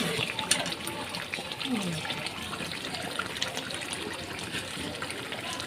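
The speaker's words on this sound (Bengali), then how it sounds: "এই যে দেখেন দিয়ে দিলাম পানি, যে গরম পানি দিয়ে দিলাম।" Hot water pours steadily into a pot of potatoes on a stove, a continuous splashing gush that fills the whole stretch, with faint clinks and background noise.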